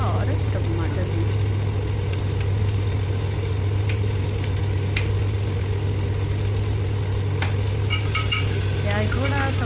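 Roughly cut onions sizzle and fry in an open pressure cooker while a spoon stirs and scrapes them, a loud, steady frying hiss filling the whole stretch with occasional clinks.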